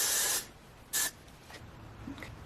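Hair spray hisses onto a long curly wig in a long burst followed by a shorter one, close and bright, then fainter spritzing and quiet room tone.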